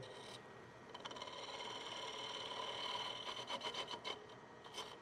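Steady rasping of a tool chamfering the edge of a wooden bowl turned from a branch, continuous at close range with a few sharper scraping bursts toward the end, no talk.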